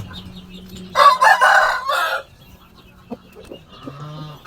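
A rooster crows once in a small backyard chicken pen, a loud drawn-out call near the start, followed by quieter scattered clucks and faint farmyard noise.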